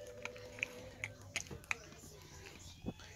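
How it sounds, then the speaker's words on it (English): Loud, close crunching and biting on snacks in a home theater setting, a series of sharp crunchy bursts spread irregularly over a few seconds with no talking. "you're chewing too loud"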